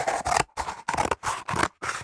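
Scissors snip through colorful fabric patches for a homemade cap in a series of six crisp, close cutting strokes with short pauses between them, nothing else heard.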